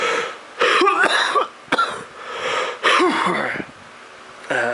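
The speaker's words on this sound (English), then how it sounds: "I'm sorry guys if I've been coughing" A sick man coughs in several harsh, chesty bursts separated by short pauses, loud and close to the microphone.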